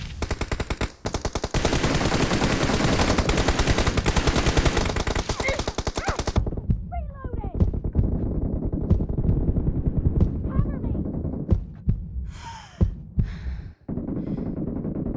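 M416 assault rifle firing in a team deathmatch shooter game, dense rapid automatic bursts that fill the first six seconds, then scattered single shots and short bursts with in-game voice callouts.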